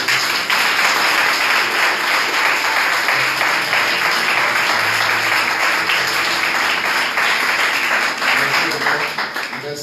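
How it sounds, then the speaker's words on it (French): Sustained applause from a church congregation acclaiming God, steady and dense clapping filling the whole stretch, with a few voices mixed in. "On va acclamer Dieu pour le Père."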